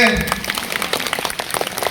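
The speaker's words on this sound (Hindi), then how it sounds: "ताली बजा दीजिए" Audience at a Bible question-and-answer gathering clapping continuously, a busy patter of many hands, moderately loud, with a voice briefly audible at the start.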